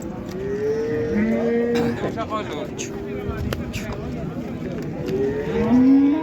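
An ox at a busy livestock market lets out long, low moos, one around the start and another near the end. Crowd chatter and voices carry on steadily underneath.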